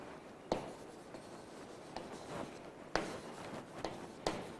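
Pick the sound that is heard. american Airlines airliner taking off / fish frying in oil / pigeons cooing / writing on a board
writing on a board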